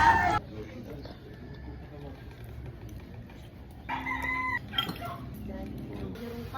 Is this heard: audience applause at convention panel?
no